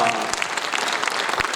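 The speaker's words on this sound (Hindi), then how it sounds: "एक बार तालियों के साथ, कुछ कम तालियां हैं।" An audience at a 2023 dance tribute performance claps steadily throughout, a dense, even patter of many hands filling the space.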